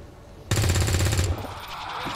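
A sharp burst of automatic gunfire in XCOM 2 starts abruptly and rattles loudly in rapid repeated shots for under a second, followed by a lingering rumbling tail.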